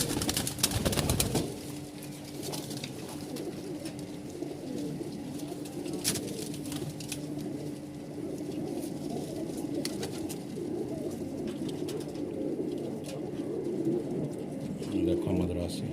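Malwai Punjabi and Madrasi pigeons coo steadily in a loose, overlapping murmur, close and continuous, with a brief louder burst of activity at the very start.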